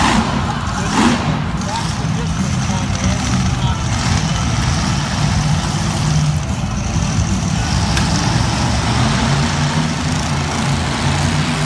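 Brutus monster truck driven by Brad Allen on a Monster Jam arena track in Lincoln, Nebraska, its engine a steady loud low rumble throughout with constant crowd and commentary noise layered over it.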